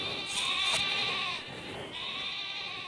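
Sheep bleats from the Pokémon Sword video game, a few wavering cries over a steady high game-music background, moderately loud with no talking.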